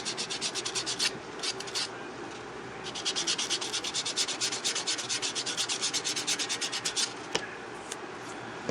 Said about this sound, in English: I'm going to buff slightly on the nail. Just to smooth it out so there's no dents, no wrinkles.